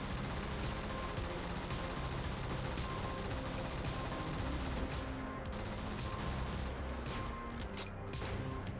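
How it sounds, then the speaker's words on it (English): Sustained autocannon fire pours into a killdozer in the video game Brigador, a dense continuous barrage of rapid heavy shots with crashing impacts that runs for the whole stretch, loud and unbroken. "now that the killdozer is blinded, we can autocannon it from the rear"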